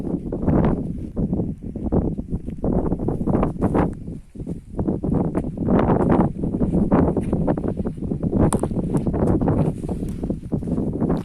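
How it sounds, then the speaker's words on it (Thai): Strong wind buffets the microphone on a riverbank, a constant loud rumbling roar with gusting surges and rustling throughout. "ลมแรงมากครับวันนี้ครับ"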